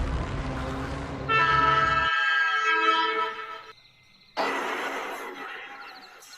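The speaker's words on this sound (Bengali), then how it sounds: "অবশেষে ট্রেন আসলো।" A cartoon sound effect of a train arriving at night: a loud sustained horn-like toot with rumbling rail noise, a sharp cut to a quieter stretch, then a burst of bright rushing noise.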